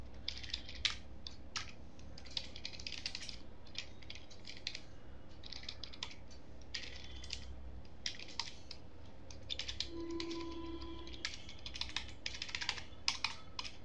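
Steady typing on a computer keyboard while writing C code, with quick irregular key clicks running continuously at a moderate distance over a low background hum, no voices.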